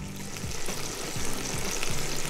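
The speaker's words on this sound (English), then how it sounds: "Our eggplant slices are perfectly fried." Eggplant slices fry in a pan with a steady, dense sizzle, close and constant, with a few soft stirring or turning bumps.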